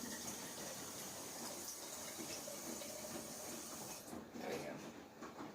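Water poured into a pitcher of orange-flavored drink mix, a steady hissing gush that runs throughout and shifts in tone near the end, fairly faint.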